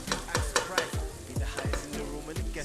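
A spoon scrapes and stirs through a sizzling stew base for Nigerian jollof rice, with about nine distinct strokes in a quick, uneven rhythm over steady frying in the pot.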